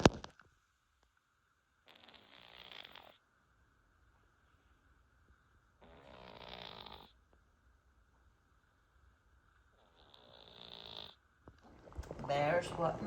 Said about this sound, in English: Let me let you all hear our snoring senior citizen cat.